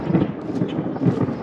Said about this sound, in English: Thunder's pretty loud.